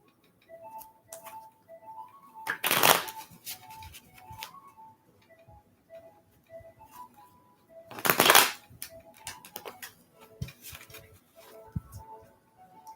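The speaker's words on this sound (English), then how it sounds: "Let me shuffle the cards good." A deck of tarot-style reading cards is shuffled twice in two loud riffling bursts, with softer clicks and taps of handled cards and faint tonal chimes in between, close and clear with no talking.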